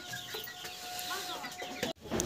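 Hens on a poultry farm cluck in short bursts close by, several birds overlapping against a busy background, with a faint voice underneath.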